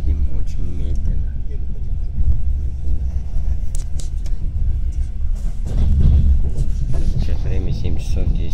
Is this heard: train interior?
yes